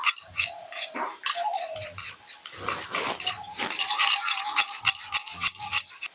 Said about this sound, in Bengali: এবার আমি টক দইটা ভালোভাবে মিহি মিহি করে ফেটিয়ে নেবো